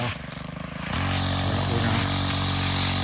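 A Stihl 131 R FS string trimmer engine runs close and loud, a rough pulsing idle that revs up after about a second into a steady, sustained high-speed drone.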